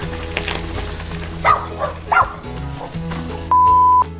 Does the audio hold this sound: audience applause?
no